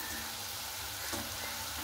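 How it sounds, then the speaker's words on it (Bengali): Palm-fruit pitha fry in oil over low heat, giving a soft, steady, quiet sizzle with no voices. "এই পিঠ ওপিঠ করে খুব সুন্দর করে একেবারে হালকা আঁচে ব্রাউন কালার করে ভেজে দিতে হবে"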